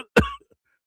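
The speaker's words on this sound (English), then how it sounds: "I cough." A single short, sharp cough sounds up close in a quiet room, followed by a faint breath and then silence.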